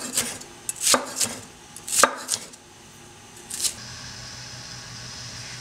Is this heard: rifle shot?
no